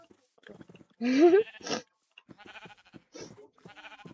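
A sheep bleats once in Minecraft, a short wavering cry between bursts of quiet speech from players.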